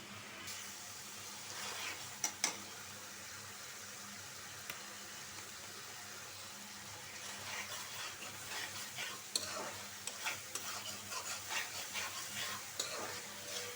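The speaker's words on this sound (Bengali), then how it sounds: "মশলাটা কষানো হোক" A spice paste (masala) is stir-fried in a pan, giving a soft continuous sizzle with intermittent scraping and stirring strokes that grow busier toward the end, alone and fairly quiet.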